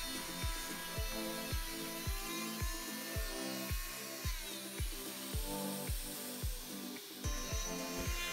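A Parkside PMFW 310 D2 oscillating multi-tool cutting through material clamped to a workbench, a steady high buzzing whine with rhythmic strokes about every half second, close and loud with no voices.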